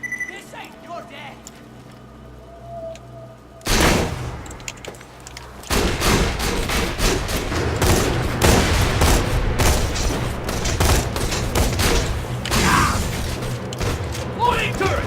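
Shotgun blasts in Borderlands 2, loud and close, firing in a fast irregular volley amid a dense battle din of other gunfire and clatter, with voices talking over the action.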